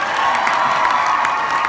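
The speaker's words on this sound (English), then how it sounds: "You all should all clap right now for Jen Tepper" Convention audience at a Broadway musical panel clapping and cheering together, a full, sustained roar of hands and shouts filling the room without a break.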